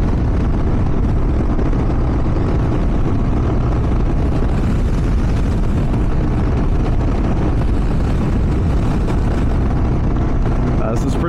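A 2023 Kawasaki KLR 650 motorcycle on the road, its engine drone and heavy wind rush filling the whole stretch loud and steady, with no break in the noise.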